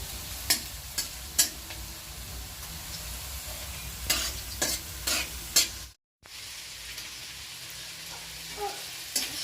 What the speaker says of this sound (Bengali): আস্তে আস্তে করে ভেজিটেবলসগুলো ফ্রাই করতে শুরু করেছি